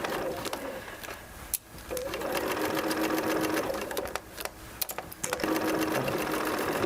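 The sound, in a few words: sewing machine sewing a basting stitch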